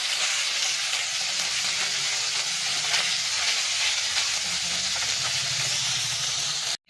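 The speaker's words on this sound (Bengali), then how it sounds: "এবার আমরা মোরলা মাছগুলোকে ভেজে নিচ্ছি।" Morola fish frying in hot oil in a kadai, a steady dense sizzle with bubbling crackle holding constant throughout, close and loud with no talking.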